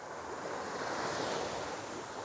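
Ocean surf washes steadily against a rocky shore in Vietnam, a continuous broadband rush of breaking waves with some wind noise on the microphone, loud and close with no talk.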